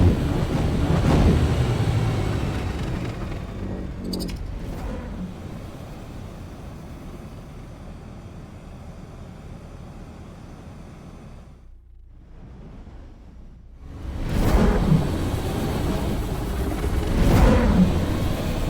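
A large Terran ship engine in the space game X4 Foundations rumbles low and steady, fading to near silence midway before swelling back with louder whooshing surges toward the end, no voices.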